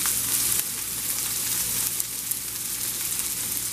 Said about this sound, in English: Now you really want to get a good sear on all sides.